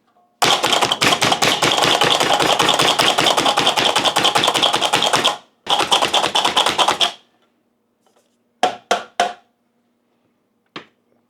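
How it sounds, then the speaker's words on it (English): Knife chopping onions on a cutting board, a rapid continuous run of crisp taps for about five seconds, a brief pause, another burst, then a few scattered cuts, close and loud with no talk. "let's make some chopped onions"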